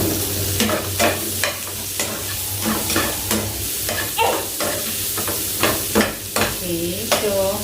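Garlic frying in a pan for crispy salmon, a loud steady sizzle with repeated rhythmic stirring and scraping strokes about once a second, up close.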